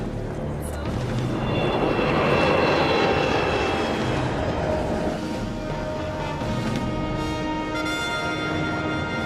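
Avro Arrow jet aircraft climbing at full throttle toward 40,000 feet, a sustained loud engine roar that swells in the first few seconds and then holds steady, with a radio voice speaking over it.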